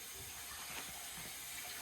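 Tap water runs steadily through a household water filter being bled, a soft continuous hiss and gurgle with faint irregular splashes, quiet and close, no voices.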